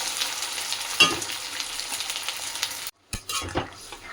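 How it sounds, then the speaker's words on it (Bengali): Potatoes fry in a pan with a steady, close hiss, a stir or clatter near the one-second mark, then a brief silence before the crackling returns unevenly. "আলুটাকে ভাজছি"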